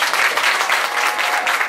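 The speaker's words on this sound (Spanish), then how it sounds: "Y que siga ese aplauso" Applause at an outdoor solidarity market for local artisan vendors in Morelos, a continuous crowd of hands clapping steadily and fairly loud throughout.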